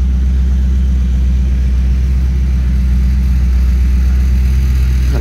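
A sprint car engine idles in the race pits, a loud, steady low rumble holding evenly throughout with no talk.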